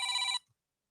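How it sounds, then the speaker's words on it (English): A short burst of an electronic telephone ring trills steadily and then cuts off abruptly, clear and close, with silence after it. "that's the phone call."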